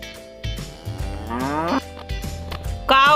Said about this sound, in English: This is a buffalo.